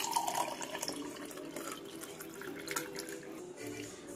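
Ginger buttermilk being poured into a cup, heard as a soft, continuous trickle and splash of liquid at close range, fairly quiet, with no speech.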